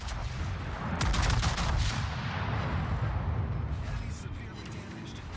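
Battleship main guns boom in the naval combat game World of Warships, a dense, continuous roar of heavy salvos and rumbling fire throughout, with players talking over it.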